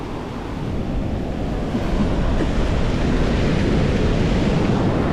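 Surf washes back down a sandy ocean beach where sand fleas are being dug up, a loud, steady broadband rush with wind buffeting the microphone and no voices.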